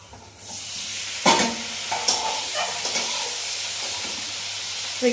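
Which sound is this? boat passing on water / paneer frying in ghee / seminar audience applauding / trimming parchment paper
paneer frying in ghee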